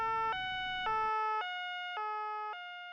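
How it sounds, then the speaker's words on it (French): A shrill two-tone police siren alternates between high and low pitches in a steady repeating cycle, loud and close, with a brief low rumble at the start and no talking. "on entendait une sirène stridente"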